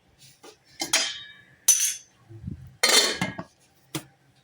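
A metal lid set down over a pan of thick cashew paneer gravy, giving a few separate clinks and clatters of lid against pan, close and fairly loud with short gaps between them and no talk.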